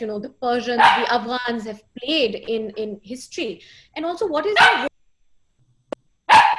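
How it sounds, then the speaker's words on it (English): A loud dog barks and yips in short bursts close to the microphone, breaking into and alternating with a woman's ongoing speech. "Apologies for my loud dog,"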